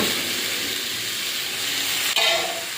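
Fried pointed gourd and potato pieces sizzle in oily spice paste, a steady close hiss throughout with a brief louder burst near the end as the food hits the pan.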